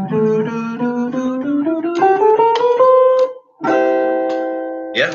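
Jazz bebop scale line with the added major seventh, played as a smooth rising run of close, bright melodic notes, then a short break and a sustained chord-like tone to finish, with no voices.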